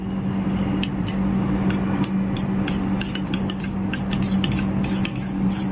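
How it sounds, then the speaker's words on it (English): Banana cake batter being mixed in a bowl, a steady run of rapid clinks and scrapes from the utensil against the bowl over a constant low hum, close up and with no talk. "I know I can mix it up and there'll be no lumps"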